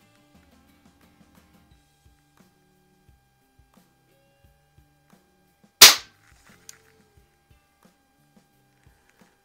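One sharp, loud air rifle shot, from a Diana or Geco model 6, cracks out of near silence, followed shortly by a faint click, with quiet ticks and soft background noise around it.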